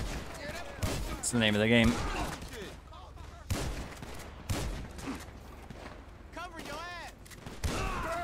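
Gunfire from the game GTA V sounds in bursts of sharp shots that mix with game effects, while people talk over the action throughout.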